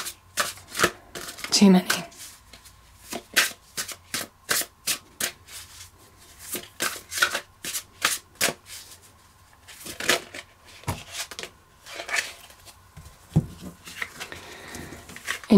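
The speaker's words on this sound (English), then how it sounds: "I'm just going to pull a tarot card today, see what the message is." Tarot cards are shuffled in rapid, repeated riffling bursts for a sustained stretch, crisp and close, with a brief spoken remark early on.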